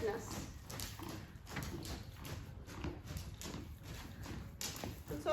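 Horse hooves moving around a round pen during early training, a steady rhythmic clip-clop of footfalls heard with a person talking over it throughout.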